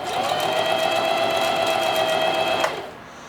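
A sewing machine runs continuously while stitching a zippered bag, a close, loud whirring hum that stops abruptly near the end.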